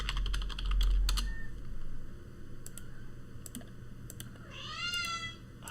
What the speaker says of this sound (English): Can you hear my cat?